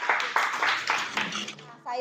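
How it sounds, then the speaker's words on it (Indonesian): Several bursts of hand clapping from a small classroom group, brief and close, with some noise mixed in and a short break near the end. "Beri tepuk tangan."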